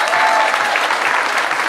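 A crowd at a Medical City launch event claps in a dense, continuous round of applause, loud and close, with a hint of crowd voices mixed in.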